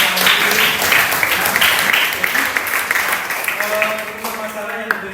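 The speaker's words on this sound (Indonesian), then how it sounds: "Oke, berikan aplaus." Classroom applause from a group of students fills the whole stretch, a dense, steady patter of many hands that carries on throughout, with speech-like sounds faintly mixed in.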